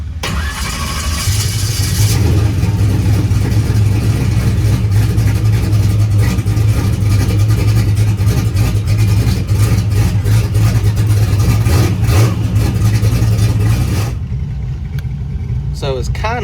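A car engine cranks over and over for about twelve seconds with the throttle held to the floor, a loud, close, rhythmic churn that stops abruptly, and a voice is heard over it.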